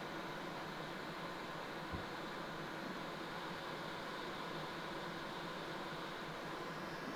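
A garage shop heat gun blows hot air in a steady, even broadband hiss that holds from start to finish, close and moderately loud, with no talk.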